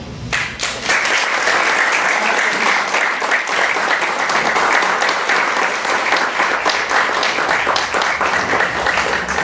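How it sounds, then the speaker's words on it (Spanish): Audience at a revolutionary colloquium in a Dominican athenaeum breaks into dense, sustained applause, loud and steady for the full stretch with no talking over it. "Para ustedes, mi más elevado respeto y un aplauso."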